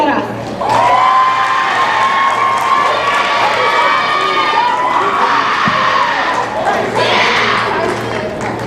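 A crowd at an eighth-grade promotion ceremony at an aerospace academy cheers, whoops and applauds as a graduate is recognized, with shouting voices riding over steady clapping and a mic voice briefly heard.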